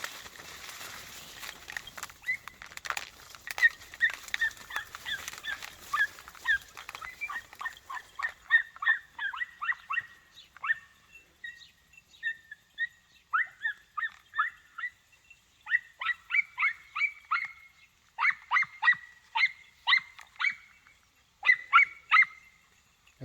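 A litter of five hound puppies barking and baying, starting as overlapping yelps and settling into repeated short bursts of high baying calls in quick clusters, fairly close and clear over a quiet background.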